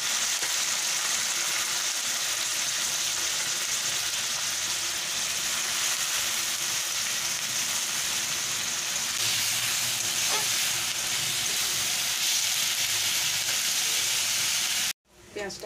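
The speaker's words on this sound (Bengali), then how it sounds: "ওই ডিম ভাজা তেলে আমি যে পেঁয়াজটা মেখে রেখেছিলাম ওটা দিয়ে দিলাম।" Onion frying in the oil left over from frying eggs for an egg curry gives a continuous, even sizzle and hiss with no talking, then cuts off abruptly near the end.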